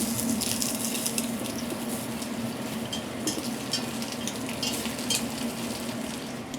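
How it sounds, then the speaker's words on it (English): Chopped garlic and onions sauté in a pan with a steady, even sizzle and occasional light stirring scrapes, fairly close and continuous, no voices over it. "We're gonna saute it along with the onions until it gets like translucent."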